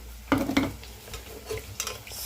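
Ingredients fry in a pan for ivy gourd biryani, a soft sizzle under two quick utensil scrapes early on and lighter stirring after.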